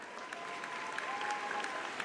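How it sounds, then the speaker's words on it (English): Applause rings out for students at a high school graduation ceremony, a steady wash of many hands clapping across a large hall, even and sustained. "Please give them a round of applause."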